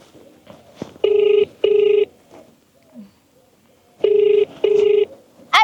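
A landline telephone rings in two pairs of loud, close electronic bursts, a pause separating the first pair from the second, with faint background sounds between the rings.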